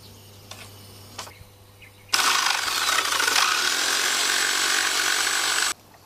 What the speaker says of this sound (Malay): Kita potong gunakan jigsaw.